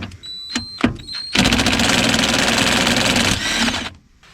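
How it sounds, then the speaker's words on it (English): An impact wrench with a 10mm socket unbolts the ABS wire bracket from the steering knuckle of a 2003-2007 Honda Accord: a few short clicks, then about two seconds of loud rapid buzzing rattle that stops abruptly. "We use a 10mm socket right here and unbolt it."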